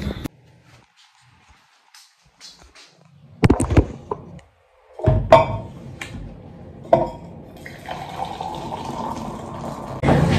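A hot drink is made in a quiet kitchen, with scattered clinks of cups and utensils and short bursts of liquid pouring or filling, close and intermittent between pauses.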